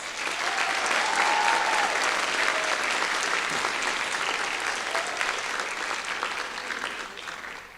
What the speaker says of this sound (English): I ask everyone to give them a round of applause